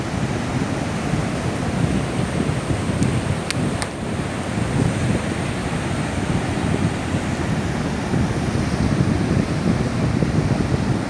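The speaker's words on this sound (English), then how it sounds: "I'm now gonna show you the ocean." Rough ocean surf at Labadi beach in Accra, Ghana, a continuous broadband wash of breaking waves mixed with wind buffeting the microphone, loud and steady, with a few faint ticks and no talking.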